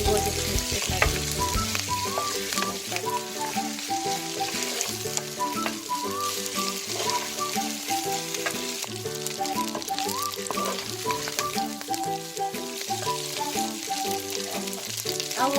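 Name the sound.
stirring pasta in tomato paste in a sizzling pan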